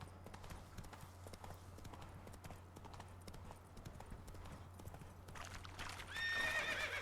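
Hooves clip-clop steadily from the horse Roach in the video game Witcher 3: Wild Hunt, Blood and Wine, a rhythmic galloping beat that ends in a loud neigh near the close, with a low game hum underneath.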